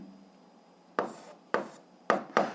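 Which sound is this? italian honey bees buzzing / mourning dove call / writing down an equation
writing down an equation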